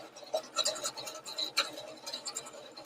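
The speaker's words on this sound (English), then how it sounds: "you can see how it's stitching the legs as part of the body" A machine embroidery unit stitches a bunny design, giving a fast, quiet, steady rattling tick of the needle with small scratchy accents, close and continuous without any voices.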